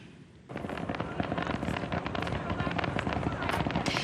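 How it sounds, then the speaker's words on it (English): Fireworks mark the start of lobster fishing season at a wharf in southwestern Nova Scotia, bursting in after a quiet moment into a dense, loud barrage of crackling pops that keeps going. "Fireworks signaled the start of the season."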